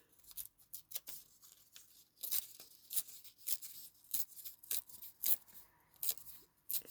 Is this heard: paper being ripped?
yes